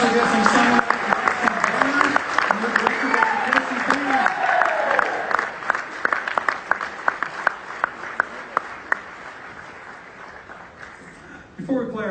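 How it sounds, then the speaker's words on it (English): Audience applause at a University of North Dakota band pops concert: dense clapping from a large crowd with cheers and whoops, loud at first and then thinning toward the end, with voices mixed in. "How about another round of applause for our special guest and songwriter"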